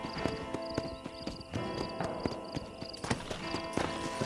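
A horse's hooves clip-clop in a steady trotting rhythm in Red Dead Redemption, near Fort Mercer, with regular sharp hoof strikes over a low game ambience.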